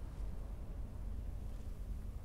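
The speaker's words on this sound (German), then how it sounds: "Wie der Wind hier durchweht, ne?" Steady wind blows in the Skyrim video game, a constant low rushing roar with no talking.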